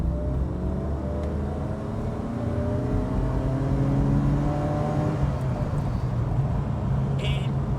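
BMW E28 Hartge H5 SP engine pulling hard at full throttle in third gear from about 3,000 rpm, a steady rising drone heard from inside the car with someone talking over it.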